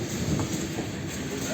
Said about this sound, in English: It's pretty cool to see those G-Link trams.